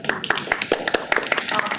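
Brief burst of audience clapping at a county school district organization committee meeting, sharp irregular hand claps from a small crowd, close and fairly loud, fading within two seconds.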